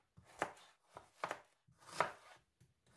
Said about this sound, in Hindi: 2 गाजरें लिए, इनको छोटे टुकड़ों में काट लेंगे।